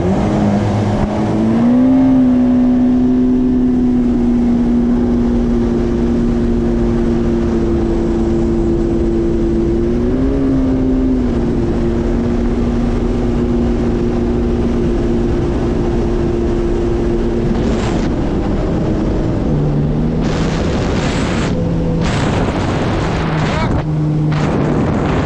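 A Yamaha GP1800R jet ski rides along a river, its engine holding a loud steady drone that rises and falls in pitch, with wind buffeting the microphone and splashy bursts near the end.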